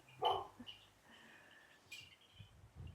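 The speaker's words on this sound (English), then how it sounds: "Dogs just got excited next door." Dogs next door bark in a short burst, one loud yelp up front followed by fainter, scattered barks at a distance.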